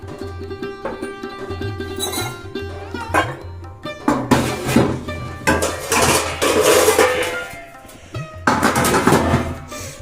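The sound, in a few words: dishes being put into the kitchen sink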